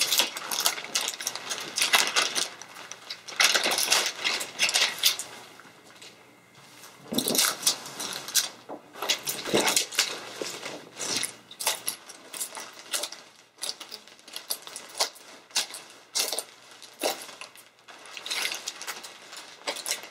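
Cellophane wrap crinkles and rustles as it is gathered around a Mother's Day tea gift basket, close and fairly loud bursts of crackling that come and go irregularly, with no talking.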